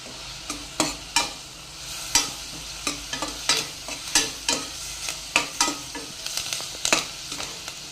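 Onions fry in hot oil in a pan with a steady low sizzle, while a spoon scrapes and taps against the pan in irregular strokes that come every half-second or so, up close.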